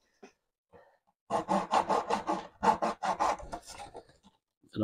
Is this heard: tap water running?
no